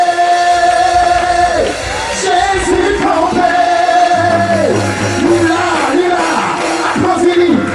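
A large church congregation cheers and shouts loudly and continuously during a worship service, voices overlapping in a sustained roar of acclaim with music playing underneath.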